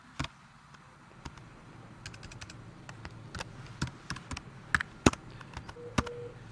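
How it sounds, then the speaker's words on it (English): Typing a command on a computer keyboard at a command prompt, a run of quiet, irregular key taps with a few sharper strikes toward the end, close by and without talk. "type CAE fatigue, type the name of the control file"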